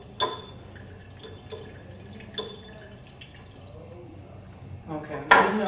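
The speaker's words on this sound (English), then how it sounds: "I'm cleaning up my filbert brush" A filbert paint brush is rinsed and tapped against a container, giving light clinks and drips with scattered taps, then a louder clatter near the end.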